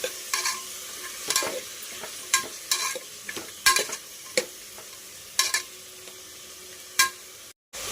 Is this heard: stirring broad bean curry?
yes